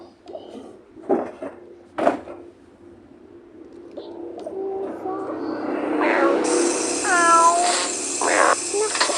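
A cat meows several times in a domestic setting, its calls rising and falling in pitch amid rustling and a few knocks, with a voice speaking intermittently.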